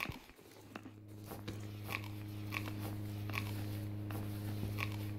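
Repeated crunchy bites of food being eaten in the video game Streamer Life Simulator, about seven chomps spaced under a second apart over a steady humming background tone.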